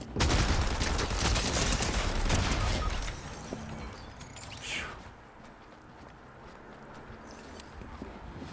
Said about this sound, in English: I'm not sure who's shooting in from where